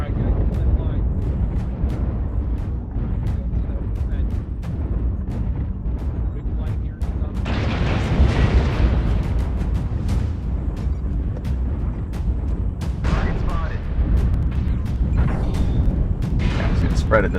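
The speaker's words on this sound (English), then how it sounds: "I dropped that artillery in a horrible spot" Artillery strike explosions in the mech combat game Mechwarrior Online, a dense run of booming blasts and rumbling impacts over a steady low roar, with a louder burst of debris noise partway through and voices talking over it.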